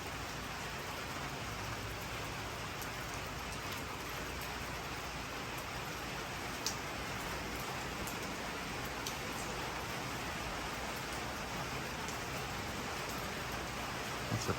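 Steady rain falls outside in a remote oyster-farming spot, a dense, even hiss of drops with a few sharper drips and no voices.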